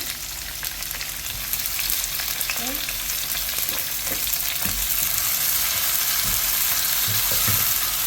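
Chopped tomatoes frying with well-browned onions in a hot pan give a steady, close sizzle that swells slightly, with occasional stirring scrapes and soft taps. No one speaks.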